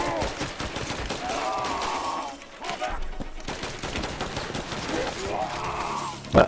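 Gunfire in the VR shooter Synapse on PS VR2, a busy burst of rapid shots and impacts filling the mix almost continuously, with a short lull midway and a sharp loud hit at the very end.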